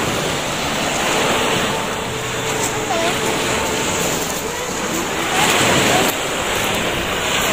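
Sea waves wash onto the shore in a steady, loud surf roar with wind buffeting the microphone throughout.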